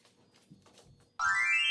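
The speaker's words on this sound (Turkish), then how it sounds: "Şimdi Lucky'nin birthday şarkısı çalıyor" An electronic birthday song melody starts abruptly and plays loud and steady, like a ringtone, after a stretch of faint, quiet room sound.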